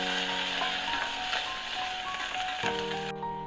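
Onions and curry leaves sauté in hot oil with mustard seeds for a cabbage curry, producing a steady, dense sizzle and crackle throughout, close and moderately loud, with faint stirring scrapes.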